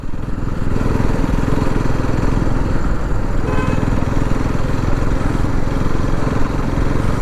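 A Bajaj NS200 motorcycle engine runs steadily while riding along a road near Mysore, a loud, continuous mid-pitched drone with wind rush, holding a constant note in fifth gear with no talk.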